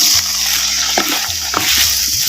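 Small chopped tomatoes sizzle in hot oil in a pan while cooking a village-style ground-masala fish curry, a steady close frying hiss with a few scraping stirs of a spoon and no talk.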